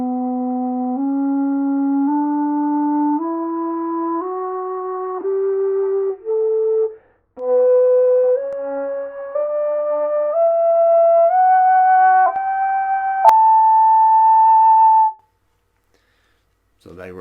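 A xiao, the Chinese vertical bamboo flute, plays a slow stepwise scale alone, each sustained note climbing from low to high with a short break midway, ending on a long held high note.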